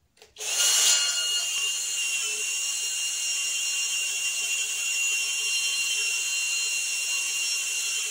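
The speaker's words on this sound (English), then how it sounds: "I'm going to take a step drill bit and just drill out the end of the throttle sleeve" A step drill bit whines loud and steady through a motorcycle throttle sleeve for several seconds after a brief start, the high-pitched drone holding without pause.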